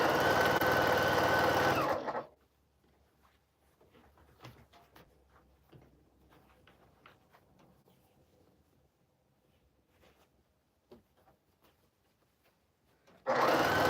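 A sewing machine seams quilt fabric for a Quilt of Valor in loud, continuous bursts at the start and end, separated by a long quiet stretch of soft handling noises and light taps.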